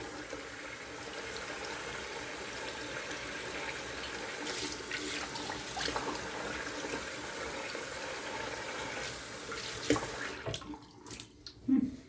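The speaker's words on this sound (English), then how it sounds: "Let's do a cold water rinse real quick." Cold water runs from a tap in a steady, faint splash during a wet shave rinse, then stops, leaving a few drips and small splashes.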